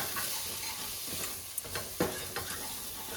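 Ingredients for a jackfruit seed curry are stirred in a pan, with a soft sizzle underneath and a few sharp scraping strokes of the spoon close by.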